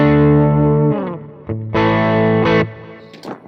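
An ESP LTD SN-1000FR electric guitar on its bridge humbucker in the high-output mode drives a Lone Star amp into gain. Sustained distorted chords and notes ring loud and close, with short gaps between phrases.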